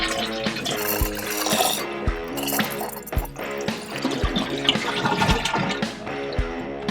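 Toilet tank draining as the handle is pressed and the flush runs, a rushing gurgle of water with scattered clinks and drips, close and fairly loud, with no talk.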